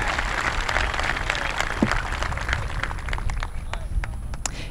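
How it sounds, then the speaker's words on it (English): Audience applause fills a high school graduation ceremony, a dense, steady wash of many hands clapping that holds loud for the whole stretch, with scattered sharper claps poking out near the end. "A round of applause for them, please."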